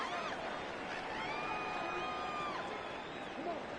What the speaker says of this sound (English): the crowd here at MetLife Stadium in full roar